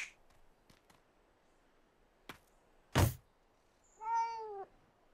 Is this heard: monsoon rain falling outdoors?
no